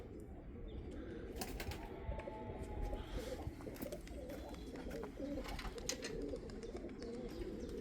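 Many pigeons coo in a busy flock, soft low repeated calls layered over each other with occasional wing flaps and faint background chatter nearby.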